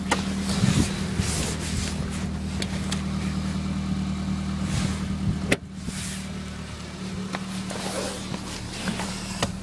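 A 2004 Pontiac Vibe idles steadily after a cold start on a January morning, its engine drone and exhaust-leak ticking constant and close, with a few footsteps and small knocks nearby and a brief sharp thump midway.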